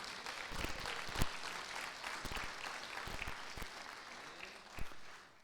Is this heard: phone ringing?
no